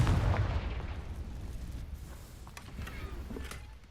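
An explosive spell cast in the Hogwarts Legacy video game sets off a heavy booming burst at the start, which fades into a low rumbling tail with faint scattered crackles.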